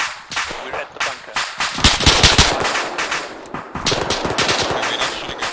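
Rapid automatic machine gun fire in the military shooter game Arma 3, loud sustained bursts and rattling volleys with overlapping shots, a shouted voice briefly under the gunfire.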